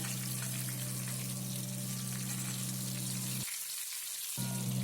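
Crushed peanut powder sizzles in hot oil with curry leaves for a peanut curry, a steady close hiss with a low hum that cuts out briefly before resuming.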